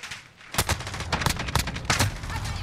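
A Fostech Origin-12 shotgun firing in Call of Duty Modern Warfare: a rapid, loud string of blasts after a brief quiet start, shots tumbling together with rattling echoes and no speech.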